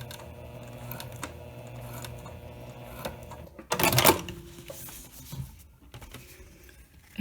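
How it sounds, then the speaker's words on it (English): A sewing machine runs a few back stitches on a fabric moon pouch, giving a short, loud whirring burst of stitching amid quieter handling clicks and rustles. "Take a couple of back stitches."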